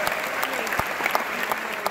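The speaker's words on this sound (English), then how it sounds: "Let's have a big round of applause for them." Graduation crowd giving a big round of applause for staff and teachers, a thick continuous clapping with a few louder claps and faint voices mixed in.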